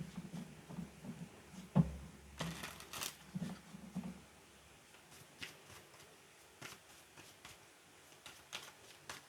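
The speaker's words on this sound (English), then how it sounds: "one more shuffle" Tarot cards are shuffled by hand in quiet, irregular riffling and slapping sounds, soft and close with a few sharper taps, no talking.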